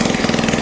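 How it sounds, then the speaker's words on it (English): A small four-wheeler ATV engine, recently re-assembled with a cleaned carburetor and no exhaust fitted, chugs and revs under a little throttle in a loud, rough, rapid pulsing burst at close range. "Come give her a little gas, Winky."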